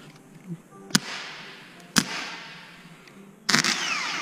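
Three sharp cracks come one after another, with a buzzing, whirring spin between them, the last burst longer and rougher, recorded up close: a new starter motor on an Audi S6 spinning and sparking on 12 volts.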